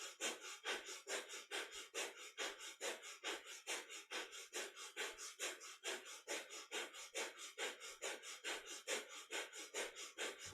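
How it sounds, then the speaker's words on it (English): Steady, rapid rhythmic breathing during a kundalini yoga kriya: about four sharp, even breaths each second, sustained close and clear for the whole stretch with no talking. "Really lock into that rhythm of the breath"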